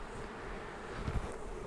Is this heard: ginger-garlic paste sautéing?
no